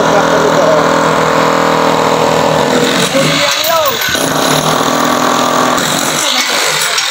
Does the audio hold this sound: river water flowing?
no